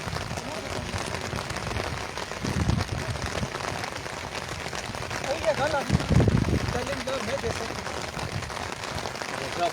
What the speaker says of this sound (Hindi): मैं बारिश से बचा हुआ हूँ फ़िलहाल, तो मैं छतरी के नीचे बैठा हूँ, लेकिन थोड़ा बहुत भीगा ज़रूर हूँ।